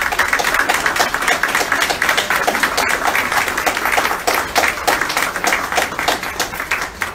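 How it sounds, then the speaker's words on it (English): A church congregation breaks into loud, dense applause, many hands clapping close and sustained in a steady ragged patter that tapers slightly toward the end. "Let's give Jesus, Mary, and Joseph applause"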